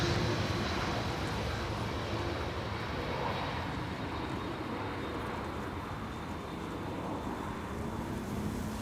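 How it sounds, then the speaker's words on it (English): Boeing 747 cargo jet taking off at Amsterdam Schiphol, a broad steady engine roar heard from a distance, loud and unbroken for the whole stretch, with wind in the background and no voices. "there was a 747 taking off from runway 24"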